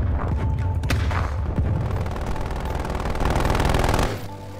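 Rapid bursts of automatic gunfire from a video game, loud and dense, with a few heavier booms mixed in, running continuously before cutting off near the end.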